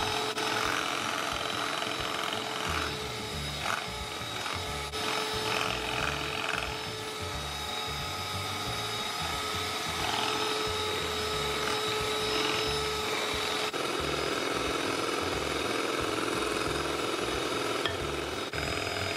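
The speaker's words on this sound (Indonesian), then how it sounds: "Kemudian masukkan kuning telur satu persatu sambil terus dimixer dengan speed tinggi" An electric mixer runs at high speed beating chocolate chip muffin batter as egg yolks go in, a steady loud motor whine that holds for the whole stretch with a slight shift in tone near the end.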